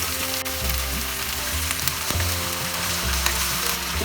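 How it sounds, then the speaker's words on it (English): Mutton chops sauté with onion in hot oil, giving a loud steady sizzle under a low humming drone, with occasional stirring scrapes and clicks, close up and without any talking. "Now saute the mutton with onion at least 10 minutes."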